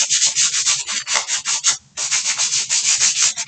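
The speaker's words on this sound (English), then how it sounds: "So I'm going to sand it down some to get that slickness off of it." Sandpaper rubs rapidly back and forth over a slick surface on a handmade DIY rose box centerpiece, a steady rasping rhythm of quick strokes with one brief pause midway, close and fairly loud with no talking.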